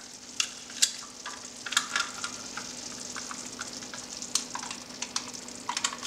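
A spoon works cream through cooked blueberry risotto in a pan, giving soft, sticky clicks and scrapes scattered irregularly over a quiet background with a faint hum, no talking.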